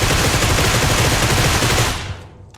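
Loud, dense video-game gunfire in a vampire game mode: rapid overlapping shots rattle for about two seconds, then cut off abruptly into quiet.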